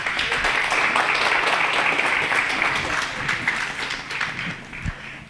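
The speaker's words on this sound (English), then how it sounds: "Can please give Memola a round of applause" Audience applause for a hospitality teacher at a school event, a steady broadband wash of clapping that holds for several seconds and then thins toward the end.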